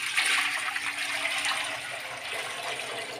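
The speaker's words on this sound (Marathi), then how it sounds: "इथे मोठं पातेलं मी ठेवून घेतलेलं आहे आणि त्याच्यामध्ये पाणी घालून घेत आहे" Water being poured into a large cooking pot for boiling sabudana papad batter, a steady rushing splash that stays loud and even throughout, close by with no talking.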